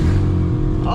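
A BMW E30 engine suspected of being blown gives a short, loud, rough rev of about a second, close by, with a voice mixed in.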